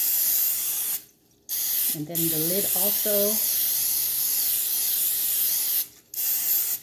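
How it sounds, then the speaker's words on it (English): Cooking spray hisses in long steady bursts onto a Belgian waffle maker, with brief pauses between sprays and a short spoken remark in the middle. "don't forget to spray your Belgian waffle maker or you have sticky waffles"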